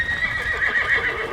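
Horses on a ranch neigh and whinny loudly and steadily alongside hooves clip-clopping, a continuous close stable bustle with no talking.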